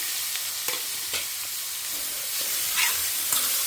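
Mustard seeds, split lentils, dried red chilli, curry leaves and grated beetroot frying in hot oil for a tempering, giving a steady loud sizzle with occasional small pops and crackles.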